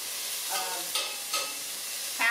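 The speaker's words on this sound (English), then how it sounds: "Half of a white onion going in there" Half a white onion goes into a hot pan of melted butter and starts to fry. The sizzle is fairly soft and close, with a few stirring scrapes and clatters, and no one speaks.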